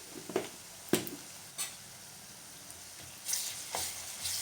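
Curry leaves and onions frying in hot oil in a pan, a faint low sizzle broken by a few sharp spoon knocks and scrapes, growing a little louder near the end.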